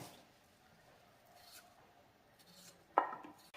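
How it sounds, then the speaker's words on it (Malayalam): A knife cuts potato pieces on a board in a quiet kitchen, with one sharp, close chop standing out near the end against faint background. "ഞാനിപ്പം ഇതുപോലെയാണ് അരിയുന്നത്."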